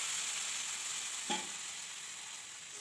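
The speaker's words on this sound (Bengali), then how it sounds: "জলটা দিয়ে দিলাম।" Warm water poured into a pot of frying khichuri of rice, dal and vegetables: a steady hiss of sizzling with one brief splash-like burst partway through, no voices.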